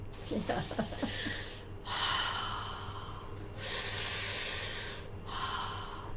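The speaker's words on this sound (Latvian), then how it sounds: "Tātad ko viņi dara? Viņi elpo." Slow, deep human breaths drawn in and let out in long hissing waves, a calming breathing exercise, preceded by a brief snort-like exhale, close and alone without talk.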